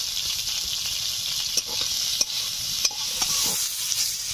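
Bitter gourd fries with salt and turmeric in a little leftover fish-frying oil, a close, steady sizzle broken by repeated scraping stirs of a utensil against the pan.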